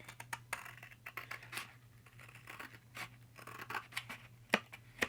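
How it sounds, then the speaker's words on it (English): Scissors snip and crunch through cardboard along a box crease in short bursts of sharp cuts, close up, with brief pauses between strokes. "So all I do is stick my scissors in and cut."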